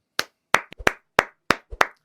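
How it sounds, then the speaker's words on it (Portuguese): Several sharp, separate hand claps ring out close by in an uneven rhythm, about nine in two seconds, with near silence between them during a Brazilian sports talk show. "aplausos"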